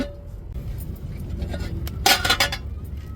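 A metal lid clatters onto a pot of Indian salmon fish curry with a short ringing clink, after some quieter kitchen shuffling and low background hum.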